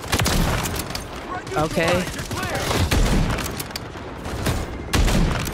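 XRK Ballista rifle fire in a first-person shooter, several sharp loud shots scattered through dense combat noise, with a person talking over the action.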